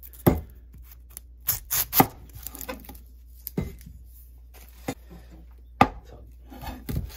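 A cleaver chops an onion on a cutting board in a scattered series of sharp knocks, with soft rustling and scraping between the cuts.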